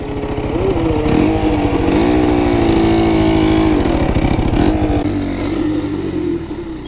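Honda Dax motorcycle with badly adjusted valves revving hard up close, a loud, steady buzzing engine drone that rises and falls in pitch before easing off toward idle near the end.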